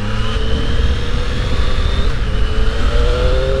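A 2020 Triumph Street Triple 660 S motorcycle engine revs loudly and continuously, its pitch climbing and shifting as it accelerates, with heavy rumbling wind noise throughout.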